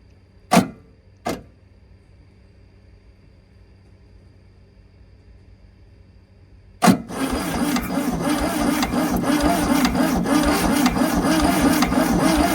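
A 1971 VW Super Beetle on a weak battery: two brief sharp clicks, a pause, then the starter cranks in a steady, loud, grinding drone that runs on without the engine catching.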